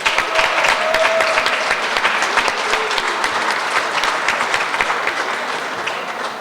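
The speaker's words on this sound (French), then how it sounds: "Je pense que ça mérite vraiment une belle main d'applaudissements." Sustained applause from an audience, dense clapping holding steady and slowly easing off toward the end.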